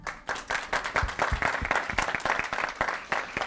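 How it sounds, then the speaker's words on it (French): Audience applause at a live Mister Universel France 2022 evening event, a steady dense clapping from a crowd that stays loud and even throughout. "Applaudir."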